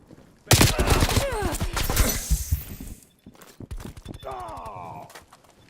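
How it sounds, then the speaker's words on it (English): Rapid bursts of video game gunfire in Call of Duty crackle loudly for a few seconds, then fade to quieter scattered sounds near the end. "I'm just shooting him, everybody."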